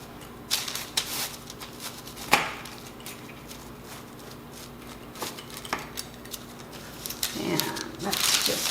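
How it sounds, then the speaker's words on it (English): A knife cuts through a homemade Hawaiian pizza with a crispy crust, giving scattered crunchy scrapes and one sharp crack among soft rustling. A voice speaks over parts of it. "And let's just cut a piece here."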